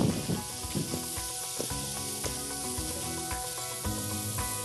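Steak sizzling in hot oil in a frying pan, a steady broadband fry with scattered pops and crackles running the whole time, close and fairly loud, with no one talking.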